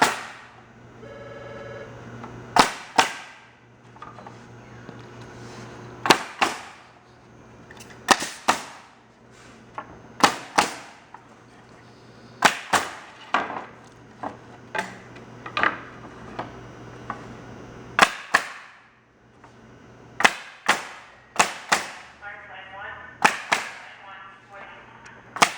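A pneumatic nail gun fires nails into wooden pallet blocks at a block pallet nailing station, giving sharp, loud bangs in quick pairs and clusters separated by short pauses over a faint steady hum.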